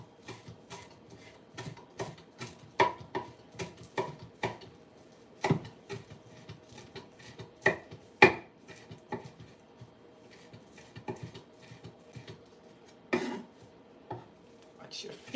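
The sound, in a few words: mincing food finely with a knife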